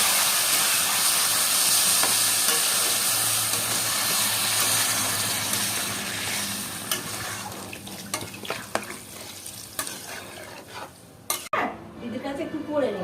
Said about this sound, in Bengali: বন্ধুরা এই দেখো সবজি চাল ডাল কষানো হয়ে গেছে। এবার আমি জল দিয়ে দিচ্ছি।